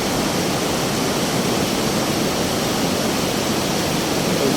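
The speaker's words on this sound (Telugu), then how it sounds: "చాలా స్పీడ్గా వస్తుంది వచ్చే వాటర్." A loud, unbroken rush of fast-flowing glacial meltwater river in the Kashmir valley, close by and constant throughout.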